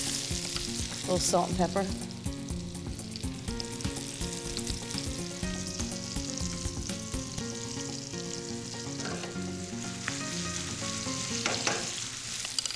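Diced food sizzles steadily in hot bacon fat in a pan, a continuous crackling fry with stirring for an omelet, under background music, with a brief spoken remark.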